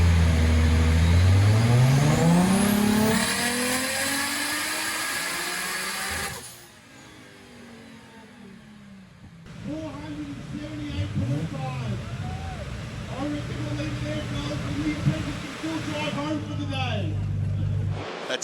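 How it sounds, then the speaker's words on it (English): Car engines at the MotorEx 2023 show in Melbourne: a loud engine revs and climbs at the start, then a busy indoor hall of engine noise and crowd chatter carries on, with people talking throughout. "There's a lot of people and a lot of car noises."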